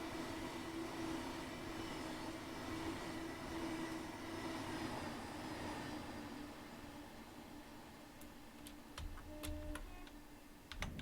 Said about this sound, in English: Let's get a flyby shot. There's the 70 there. Watch it going past.